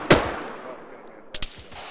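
Gunfire in a military simulation firefight: one loud, close shot ringing out into a long fading echo, then a quick pair of sharper reports a moment later.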